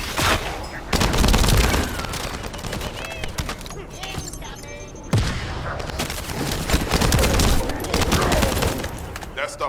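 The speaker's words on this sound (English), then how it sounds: "That stopped the gunfire." Rapid bursts of automatic gunfire in the shooter game The First Descendant, loud and dense, rattling in overlapping volleys with a short lull midway before firing resumes heavily.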